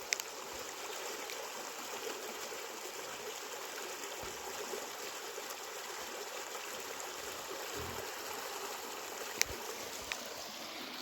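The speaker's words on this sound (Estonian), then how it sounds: "kus saab siin rajal veevulinat kuulda." A babbling stream along the Kirna study trail in Estonia on a grey November hike: a steady, even rush and trickle of flowing water, continuous and close, with an occasional faint tap and no talking.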